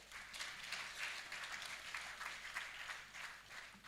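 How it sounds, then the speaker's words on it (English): Audience applause for the technical teams at an orphans and vulnerable children census report launch, a steady wash of many hands clapping at moderate distance, sustained evenly throughout with no talking over it. "Allow me to pause so that we just clap for them,"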